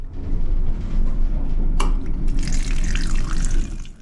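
Water runs steadily from a tap into a sink, a constant loud splashing rush with a brief clatter partway through.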